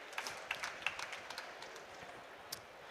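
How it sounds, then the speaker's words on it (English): An audience at a COP27 youth adaptation awards event gives a brief round of applause, with light scattered claps that taper off, fairly faint and somewhat distant. "Can we give her a round of applause?"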